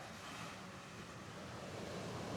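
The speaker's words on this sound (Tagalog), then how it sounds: "medyo violent yung alon. Lalakas ng alon." Strong, rough ocean waves at the Pacific view deck in Dingalan, Aurora, with an overcast sky, rumbling as a steady wash of surf mixed with wind buffeting the microphone.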